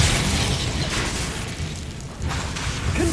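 A Confringo blasting spell explodes in Hogwarts Legacy, a dense, loud roaring burst that holds steady for about three seconds with a brief dip before surging again.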